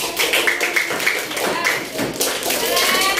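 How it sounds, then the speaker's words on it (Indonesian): A classroom of fourth-grade children clapping together for a group, a loud, fast burst of overlapping hand claps that carries on steadily with voices mixed in. "Oke, tepuk tangan untuk kelompok 3."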